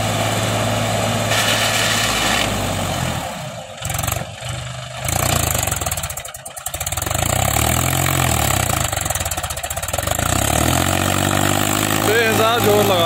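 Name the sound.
Mahindra 265 DI tractor straining in mud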